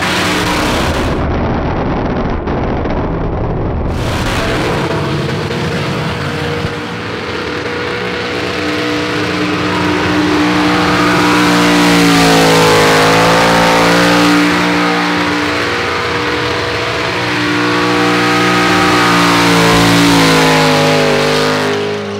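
At a burnout event, an LS Commodore's 5.3-litre V8 roars loudly near the limiter for a long stretch, its pitch wavering and climbing as it revs hard under thick, continuous noise.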